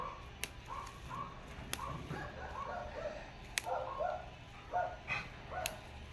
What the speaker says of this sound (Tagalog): maingay yung mga aso dito.